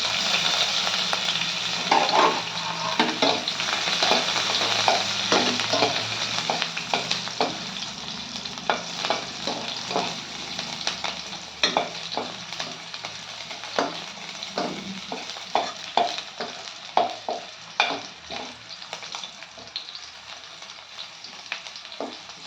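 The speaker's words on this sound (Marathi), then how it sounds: "मोहरी तळतळली की यामध्ये जिरं घालायचं आहे मिरची कट केलेला लसूण" Mustard seeds, cumin, chili and chopped garlic fry in hot oil, giving a steady close sizzle dotted with sharp popping crackles and scraping stirs of a spoon in the pan, with no talking.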